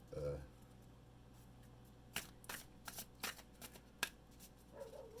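Tarot cards are shuffled by hand to draw a clarifier card: a few quick riffling bursts and soft card slaps, close and moderately quiet, with brief speech at the start and end.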